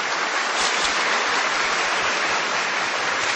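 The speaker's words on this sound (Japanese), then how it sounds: "ミスジャパネスクの皆さんに もう一度盛大な拍手をお願いします。" Dense, continuous applause from an audience at a beauty pageant stage show for the Miss Japanesque contestants, a steady rain-like wash of many hands clapping with no speech.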